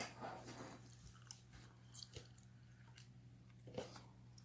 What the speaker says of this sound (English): I got a cinnamon bear in my mouth, and I'm just kind of chewing